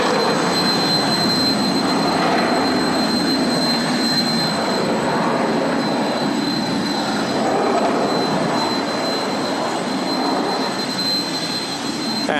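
A Eurofighter Typhoon roars continuously through a left turn at about 350 knots and 6G at an air show, a loud, steady broadband jet rumble with no pause.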